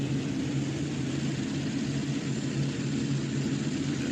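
Modified mini pulling tractor engine at a tractor pull, a steady droning roar with a strong low hum, held constant and fairly distant with no talk.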